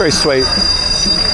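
A small tourist train carrying young children passes nearby in a street in Santa Cruz, La Palma, with wheels squealing and rumbling. A voice speaks briefly over the sound at the start.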